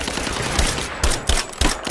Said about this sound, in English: Suppressing fire! I'm under fire!